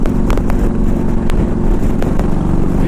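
A 2000 Harley-Davidson Ultra Classic rides along with a steady, loud engine drone and wind rush filling the whole stretch, no voices present.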